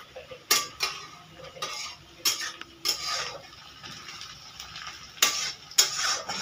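Onions fry in a pot over a clay stove as a utensil stirs them, with repeated scraping clatters at an irregular rhythm over a faint, soft sizzle.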